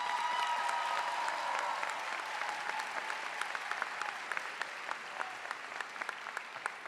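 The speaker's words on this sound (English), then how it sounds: "let's give them a round of applause." An audience applauds at a high school commencement, a broad steady clapping that slowly thins, with sharper individual claps and a faint cheer near the start.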